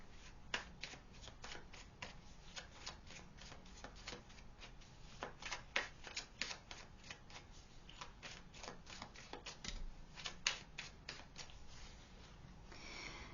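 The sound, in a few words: cards being shuffled and drawn in tarot reading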